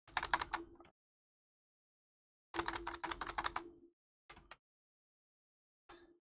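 Someone types on a computer keyboard in short close bursts of rapid key clicks separated by pauses, ending in two brief taps, with no speech.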